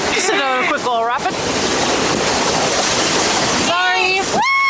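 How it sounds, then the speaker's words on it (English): Raft running a quick rapid on the Rogue River, a loud continuous rush of churning whitewater and splashing, with people talking before and after the roar. "Just a quick little rapid."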